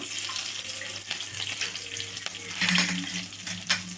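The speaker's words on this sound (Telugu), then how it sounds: "తాలింపు అయితే మంచిగా వేగాలండి" A tempering of mustard seeds, lentils, crushed dried red chillies, garlic and curry leaves fries in hot oil, giving a continuous close sizzle with stirring scrapes and brief crackling bursts.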